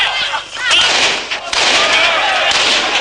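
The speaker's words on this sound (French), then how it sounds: "Soudain, à l'extérieur, des coups de feu." Gunfire crackles outside a stadium in Kinshasa during wartime, a burst of sharp reports over loud, noisy crowd commotion, fairly dense and chaotic rather than isolated shots.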